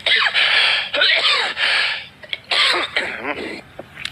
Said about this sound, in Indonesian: Tunggu dulu, batuk dulu.